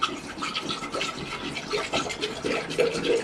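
Water pours into a VertPlanter vertical planter, making uneven gurgling splashes and bubbly trickles, close and fairly loud, with no talking.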